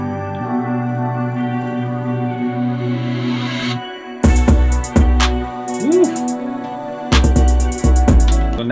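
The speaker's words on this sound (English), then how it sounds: "And then I like to add a riser and a crash." Hip-hop beat building under a rising riser, then dropping into loud kicks with a crash and busy percussion, the full groove punching in close and heavy with no voices.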